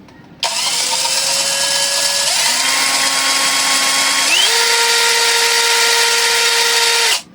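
A HUJIA 48V cordless impact drill spins up and runs steadily for about seven seconds, its whine stepping up in pitch twice as the trigger is squeezed further, loud and close with no talk.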